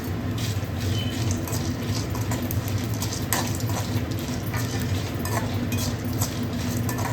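Chillies fry in a pan for a country chicken rasam, giving a steady, dense sizzle with light scraping and clinks of a stirring spoon against the pan, close and continuous.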